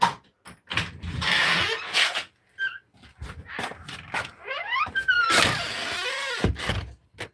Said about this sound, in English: Oh, that door. I leave it noisy because anybody's coming through the back door, I'll know.